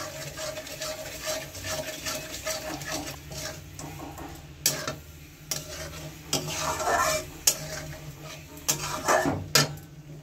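Ginger paste sautéing in a pan for Bengali rohu fish kalia, a low steady sizzle under repeated scraping and clinking of a spatula against the pan, with several sharper knocks.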